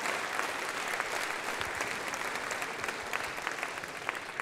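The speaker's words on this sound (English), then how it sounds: "Big round of applause to MicDSP." An audience at a pop mixing masterclass claps in steady, dense applause that holds at even strength throughout, with no voices over it.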